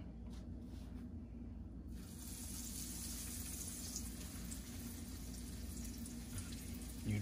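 Seasoned catfish fries in a pan as a steady, close sizzle and crackle of hot oil that holds even throughout, with no voices.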